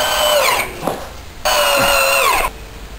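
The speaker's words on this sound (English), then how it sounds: "just drill, just put some sheetrock screws on" A power drill whines in two long bursts as it drives sheetrock screws into drywall, with a short pause between runs; loud and close, no talking.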